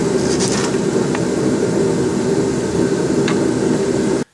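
A Mitsubishi Eclipse on a vehicle lift is lowered to the ground during control arm work, a steady loud droning hum of the lift motor that cuts off abruptly at the end; no talking.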